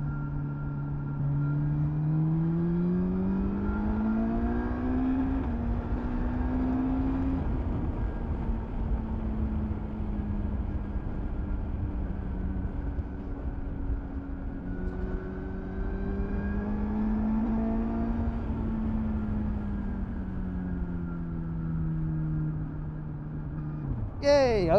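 Suzuki GSX-S1000 GX motorcycle engine revving under throttle, its pitch climbing and falling in two long sweeps, steady and close, with a voice talking over it in places.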